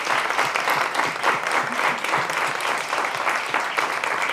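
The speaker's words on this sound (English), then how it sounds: "So can we give them a round of applause?" An audience at a women's health event applauds patients who shared their journeys, producing steady, full, continuous clapping of moderate loudness throughout.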